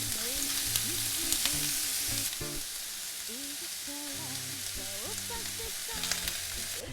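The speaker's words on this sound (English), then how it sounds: "we're gonna cook all of that with the onion for like 10 minutes on low heat or medium heat" Onion cooking in oil in a pan on low to medium heat with salt, pepper and thyme, a steady soft sizzle and frying hiss running throughout, with faint clinks and stirring sounds over the top.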